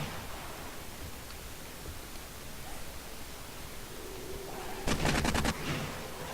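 A short burst of rapid gunfire in the survival video game 7 Days to Die rings out over a constant hissing background noise, lasting under a second near the end.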